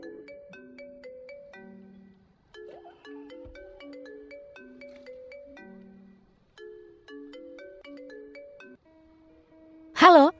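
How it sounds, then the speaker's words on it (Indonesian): A phone ringtone plays a repeating melodic electronic jingle of short notes in several phrases with brief pauses, ending in a sudden loud burst. "Xiaoyan, kamu akhirnya mengangkat telepon."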